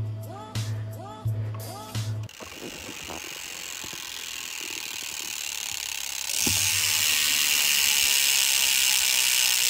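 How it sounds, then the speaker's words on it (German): Freewheel hub of a 2020 Propain Tyee mountain bike ratcheting as the wheel spins, a dense steady buzzing click that swells louder partway through after a few sharp knocks at the start. "ob euch der Sound vom Freilauf gefällt"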